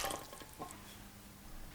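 Red wine vinegar and water trickle into a bowl for chimichurri, a short, quiet splash and drip with no talking.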